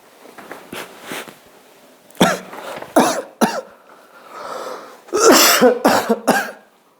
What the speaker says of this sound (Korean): 기침이 왜 안 가라앉지?